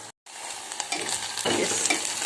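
Dill leaves stirred with toor dal in a pan over low flame, a soft continuous scraping and gentle sizzle, close up with no talking.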